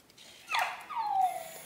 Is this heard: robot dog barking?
yes